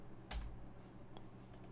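Single enter key pressed on a computer keyboard, a soft close click followed by a couple of fainter key taps in a quiet room.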